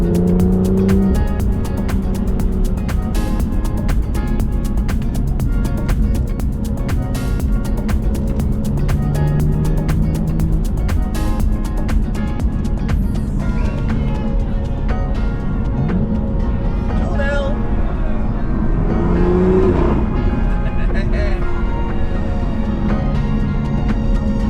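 A Toyota Yaris driving on narrow, twisty winter country roads in the North Yorkshire Moors, its engine droning steadily and loudly with rising and falling revs through bends, heard from inside the car.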